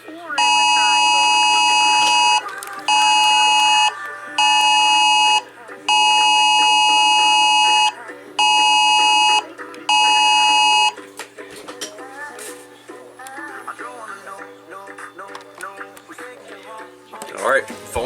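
Emergency alert system test tones from a phone or broadcast: a loud steady two-tone buzzing beep repeated in six long bursts with short gaps, then fading into muffled background talk and noise.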